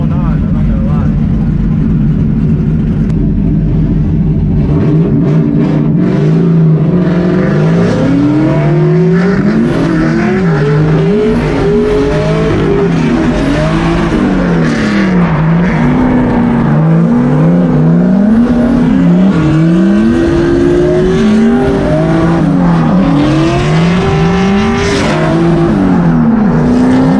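E30 drift cars at a drifting event, engines roaring loud and constant as revs climb and fall in repeated swooping sweeps, with tire squeal and people talking under the din.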